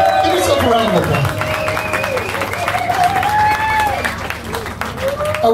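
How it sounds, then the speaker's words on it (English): Crowd at a Sacred Reich metal concert at SO36 in Berlin applauds and cheers after the band's frontman addresses them, a loud wash of clapping and shouting with tonal shouts and voices riding over it. "Give yourself a round of applause."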